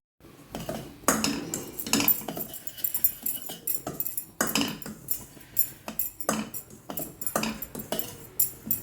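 Semolina roasting in ghee in a kadai, stirred with a metal spoon: repeated close scraping and clinking strokes against the pan in an uneven rhythm, fairly faint, with no talk.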